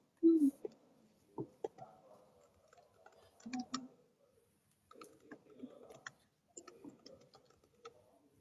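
Faint, sparse keyboard typing in a quiet room during an online call, with irregular clusters of soft clicks and small pauses between them.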